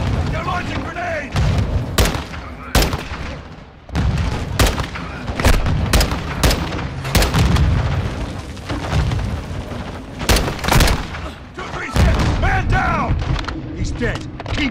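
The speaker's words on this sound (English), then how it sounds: "Incoming! Take cover! They're launching grenades!" Grenade launches and explosions in Call of Duty: Modern Warfare II, heard as repeated heavy booms and blasts layered with gunfire through a dense battle mix, with voices calling out over the combat.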